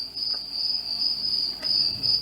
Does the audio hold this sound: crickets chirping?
yes